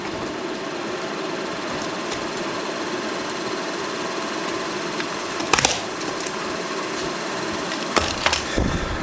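A small electric fan runs with its speed set by a voltage dial, giving a quiet, steady motor whir with a couple of soft clicks and bumps near the end.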